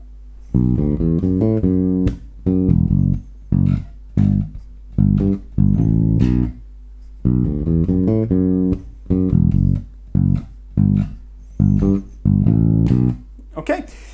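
A bass guitar plays a classic disco riff at a slow tempo, with clear, loud, separate phrases of plucked notes and short pauses between them.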